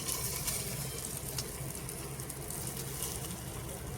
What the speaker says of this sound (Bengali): এখন প্রেসার কুকারে ঘি ঢেলে দিব।